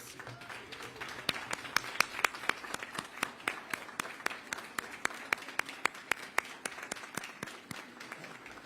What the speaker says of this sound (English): so that we can honor them with a round of applause